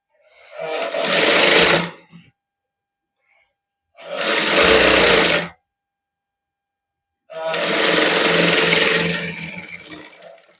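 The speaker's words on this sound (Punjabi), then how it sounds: "ਇਸ ਤਰ੍ਹਾਂ ਦੋਨੇ ਬਾਹਾਂ ਤੇ ਕੱਚੀ ਸਲਾਈ ਲਾ ਲੈਣੀ ਹੈ" A sewing machine runs loose basting stitches along garment sleeves in three separate bursts of close, rapid whirring, with quiet pauses between them.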